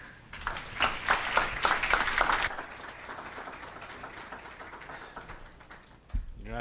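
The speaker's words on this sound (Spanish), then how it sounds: "lo recibimos con un aplauso" Audience applause greeting a speaker at a marketing conference, a burst of clapping for about two and a half seconds that fades into a quieter lingering patter and room noise.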